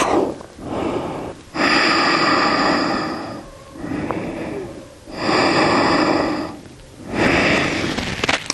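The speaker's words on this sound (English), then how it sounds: "Remember your Ujjayi breath." Ujjayi breathing during a yoga flow in child's pose: slow, loud, close ocean-like breaths, with four long hissing exhales separated by short quieter inhales.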